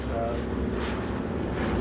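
A Douglas DC-3 Dakota propeller airliner at an air show drones with a steady, loud, continuous engine roar that stays close and unbroken throughout.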